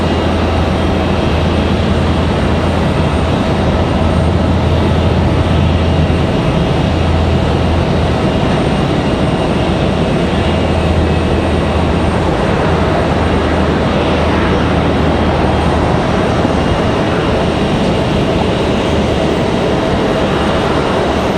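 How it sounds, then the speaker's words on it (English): Delta CRJ regional jet, Endeavor flight from JFK, touching down at Raleigh-Durham airport, a steady broadband jet roar with a low engine hum rising and holding, heard from a distance outdoors without talk. "And that CRJ about to touch down here."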